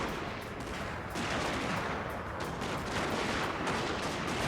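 Sharpshooters fire rifles in a Total War: Fall of the Samurai battle at Hakodate, a continuous crackle of dense gunfire with overlapping shots from mid-distance and no talk.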